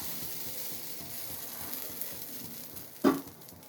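Dosa batter sizzling on a hot pan, a faint steady frying hiss with one sharper clatter near the end, close and fairly quiet, without talk.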